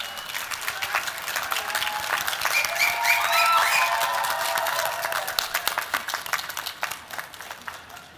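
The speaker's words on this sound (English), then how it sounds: "graduates, I ask you now to applaud those who have helped you along the way" A graduation ceremony audience applauding in a large hall, a dense wash of many hands clapping that swells to a peak midway and then gradually thins out.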